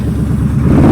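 A motorcycle engine rumbles loudly and close, rising in pitch and level as it revs during a downshift while practising slow-speed riding.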